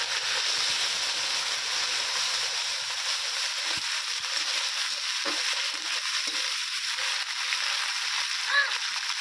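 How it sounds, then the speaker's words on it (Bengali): Ginger garlic paste with spices sautéing in a pan, a steady hissing sizzle held at an even level close by, with a few faint scrapes of stirring and no talk. "সব কিছু খুব ভালো করে কষিয়ে নেব"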